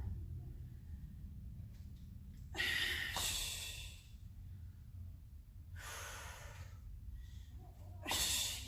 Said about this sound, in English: Big exhale at the top.